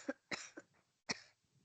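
A person coughs about four times in quick, sharp bursts, fairly close, with short quiet gaps between them.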